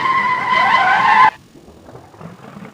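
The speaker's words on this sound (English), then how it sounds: "the sound I used was from a Porsche Moby Dick" Porsche 935 Moby Dick race car tearing past with a loud, high engine wail and tire skid for about a second, then dropping abruptly to a faint, rough low rumble.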